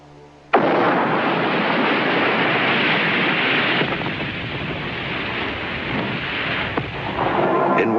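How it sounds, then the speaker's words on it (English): A bomb set off by a depth-activated fuse detonates with a sudden loud blast, followed by a long, heavy rumbling roar that slowly eases off. "the depth-activated fuse triggers the explosion."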